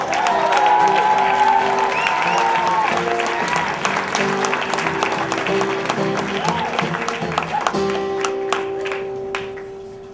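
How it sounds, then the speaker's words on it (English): An audience claps loudly for a speaker at a live talk, a dense wash of applause with scattered cheers that slowly thins out toward the end. "Please, big round of applause for Jeff."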